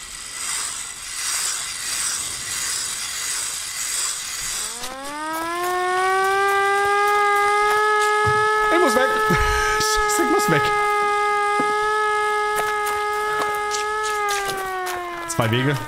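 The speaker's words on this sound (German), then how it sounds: "Sollte ich die Sirene überhaupt jetzt benutzen?" Siren sounded in the video game Ad Infinitum, rising from low rumbling ambience into a loud, sustained wailing tone that holds steady for about ten seconds, broken by a few heavy thuds and clanks before it winds down.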